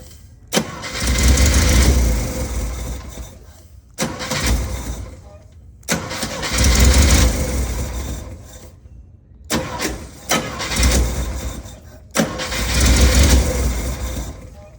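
Repeated cranking bursts from a 1964 International Scout engine during a compression test, several rhythmic starter-driven churns of a few seconds each separated by pauses, loud and close, with no firing up.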